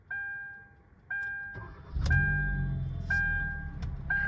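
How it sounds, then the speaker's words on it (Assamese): A Tata Zest car engine turns over and fires up at close range, with a repeating electronic chime heard before and during the start, followed by a steady idle rumble. "গাড়ীখন মই ষ্টাৰ্ট কৰিম চাবচোন হা"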